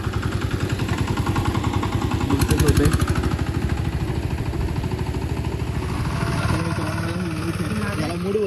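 A diesel tractor engine runs at a rice-planting farm field during rain, a loud steady rhythmic chugging idle up close with a metallic clatter, while a person speaks over it.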